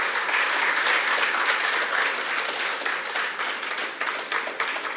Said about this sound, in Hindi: मैं चाहता हूँ कि आप उसके सम्मान के लिए एक जोरदार तालियों का दौर हो जाए